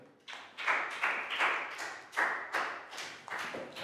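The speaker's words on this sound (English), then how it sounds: "Big round of applause for Nadia." A primary-school class claps for a pupil named Nadia, a run of about nine loose, rhythmic claps close by, with no talking over them.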